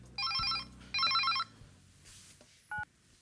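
An electronic telephone ringtone chirps in two close warbling bursts, followed by a brief softer beep, fairly quiet against a faint indoor background.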